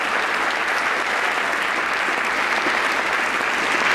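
Steady, dense applause from a room full of audience members after a speech, continuous and fairly loud throughout, with faint crowd murmur underneath.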